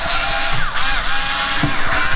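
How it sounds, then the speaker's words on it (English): Screws are driven back into a Hilook NVR box after a hard drive install, giving a steady, close mechanical whir with a few rising ratchet-like tones. "So we just need to pop these 4 screws back in"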